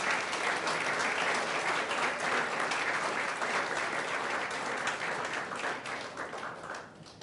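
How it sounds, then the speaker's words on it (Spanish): Church congregation applauding in praise, a dense, steady wash of clapping from many hands that carries on throughout and slowly fades toward the end. "Denle otro aplauso al Señor."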